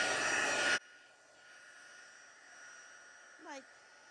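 A heat tool dries alcohol ink on paper with a loud steady whooshing roar that cuts off abruptly within the first second, leaving quiet room hiss and a brief faint squeak.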